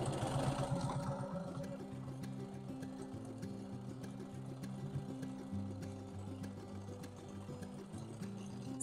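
A sewing machine with a walking foot stitches wavy quilting lines in a steady mechanical hum with a rhythmic needle chatter that shifts speed, close and continuous, no talking.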